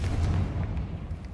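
Confringo blasting spell in the video game Hogwarts Legacy, a short, heavy booming blast with a rumbling low end that quickly fades.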